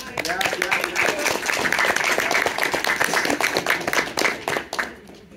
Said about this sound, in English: Brief round of applause to our event coordinator